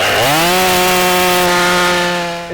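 A chainsaw bucking heavy firewood rounds roars loud and close, its engine pitch dipping briefly at the start as it bites into the wood, then holding a steady, strong whine before easing off at the end.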